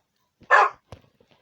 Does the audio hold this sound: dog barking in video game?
yes